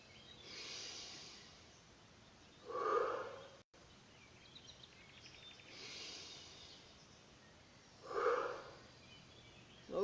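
Deep, slow breaths during an outdoor breathing exercise, two long audible inhale-exhale cycles a few seconds apart, soft and close over a faint background.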